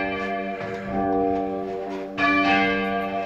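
Church bells ring loudly inside the bell ringing tower of Polesworth Abbey, with sustained overlapping tones and a fresh strike partway through.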